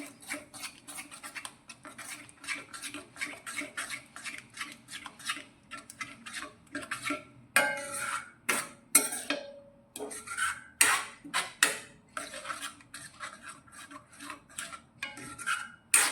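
Curd gravy stirred steadily in a pan over a low flame, a spoon scraping and rasping in quick repeated strokes with clinks against the metal, close and continuous with no talk.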